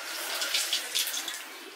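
Water running from a fully opened tap with only a weak flow, a soft steady splashing hiss with faint drips, heard close by and alone.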